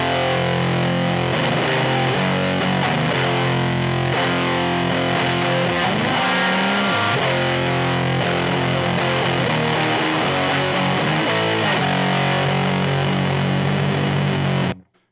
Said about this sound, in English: turning up weight is going to open up the floodgates of low frequencies into this pedal, which is going to make it sound super heavy and doomy